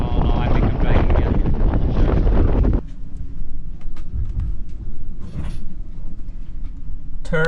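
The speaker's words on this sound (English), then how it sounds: "30 knots of wind right now." Strong gusting wind buffets a sailboat at anchor off the Sicilian coast, loud and roaring against the microphone, dropping to a lower steady rumble partway through, with brief bursts of talk.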